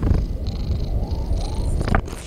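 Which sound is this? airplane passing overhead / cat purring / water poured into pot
cat purring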